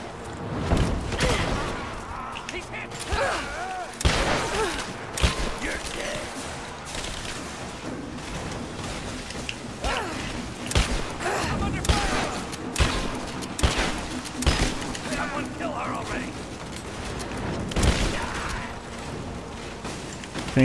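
Gunfire and explosions from the video game Rise of the Tomb Raider, with dense bursts of shots and impacts crowding a busy game soundscape throughout, and a voice talking over the action at times.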